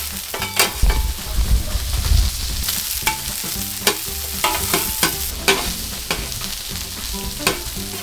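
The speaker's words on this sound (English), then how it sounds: "cook the onions, just sweat them off till they're translucent. Never put onions in cold oil, always warm the oil first." Onions sweat in warm oil in a pan for paella, giving a steady close sizzle with repeated stirring scrapes and occasional utensil knocks and no talking.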